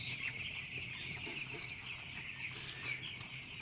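A rooster clucks in a poultry farm shed, several short clucks over a steady high-pitched hum of birds, near and fairly clear with no talk.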